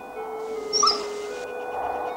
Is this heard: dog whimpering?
yes